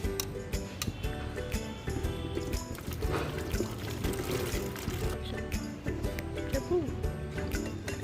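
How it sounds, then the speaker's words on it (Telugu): Banana flower is washed in water in a bucket, with sloshing and pouring sounds, quiet and close. Background music plays over it. "దీన్ని ఇప్పుడు మనం నీళ్ళతో కడుక్కుందామండి శుభ్రంగా"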